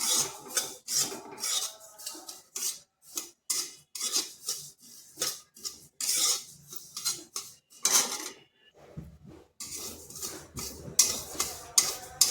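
Poppy seeds stirred in a dry pan produce rhythmic, close scraping strokes of a spoon against metal, each a short gritty rasp separated by brief pauses, repeated steadily.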